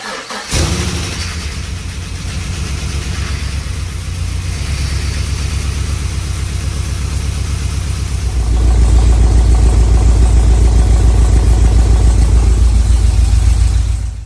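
A Chevrolet Caprice police-package car with an LS3 V8 fires up for its first startup, cranking briefly before catching into a loud, lumpy idle that deepens and grows heavier partway through, close to the microphone.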